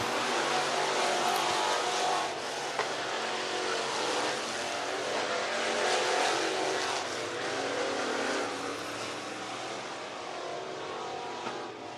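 A race car runs a hot lap qualifying around the I-75 Raceway oval in Niota, Tennessee, its engine a moderately distant, continuous drone that swells and fades slightly over twelve seconds.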